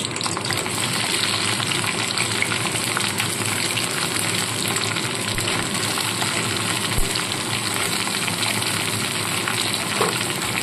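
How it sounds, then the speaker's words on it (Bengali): Okra dropped into hot mustard oil sets off a loud, dense, continuous sizzle and hiss that holds steady throughout, with no voices. "তেল গরম হয়ে গেছে, এবার ঢ্যাঁড়সগুলোকে ছেড়ে দিয়ে এগুলো কিন্তু ডিপ ফ্রাই করব না,"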